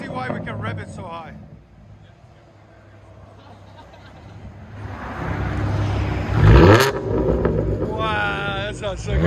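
A car exhaust with an X-pipe and a 6-speed manual revs up, rising to a loud, deep roar and then falling off. Voices talk over the engine throughout.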